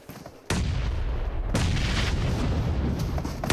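Grenade blast in PUBG Mobile during a World Cup esports match, a sudden loud boom at about half a second followed by a sustained roar of gunfire and explosion noise that fills the rest of the clip.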